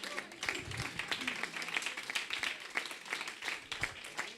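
Audience applause in a French talk about good news, steady dense clapping across the whole stretch, moderately loud, with faint voices mixed in.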